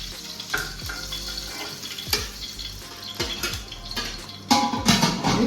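Fish pieces crisping in hot oil in a pan, a steady sizzle with watery splashing and scraping bursts throughout, louder toward the end.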